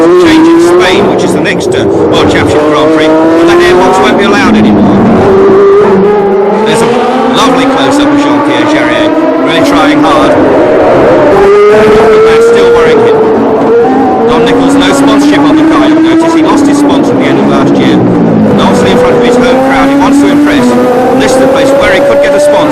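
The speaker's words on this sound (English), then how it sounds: "V12 engine, it literally screams, this engine." Screaming V12 Formula 1 race car engines at the 1976 Long Beach Grand Prix, high-pitched wails rising and falling as cars pass and shift, loud and sustained under a commentator's voice.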